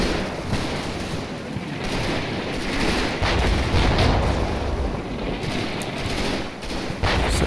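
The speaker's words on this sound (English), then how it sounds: "As the mortars start to come in, and so then I issue either area fire orders or let them go weapons free." A mortar and gunfire barrage in Combat Mission, set in France in September 1944, roars as a dense, loud wash of crackling small-arms fire and booming impacts that carries on without pause.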